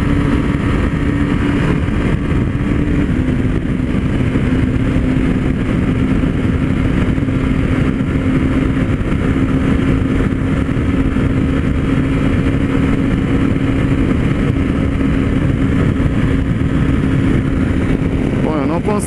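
Honda Sahara 300 motorcycle accelerating hard toward top speed, a loud steady engine drone with a rising tone and heavy wind roar throughout, close and continuous with no pauses.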